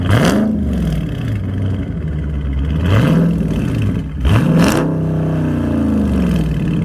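A Dodge Charger Scat Pack with its 392 engine and muffler delete revs loudly and close up, with several rising and falling throttle blips over a deep, rumbling idle, and no talk.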